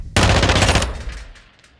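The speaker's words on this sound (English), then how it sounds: "The downside of this rifle is it kicks out so many rounds so fast." Rapid automatic fire from the FR Avancer rifle in a video game, a loud dense burst of rounds that cuts off after about a second and leaves a fading echo tail.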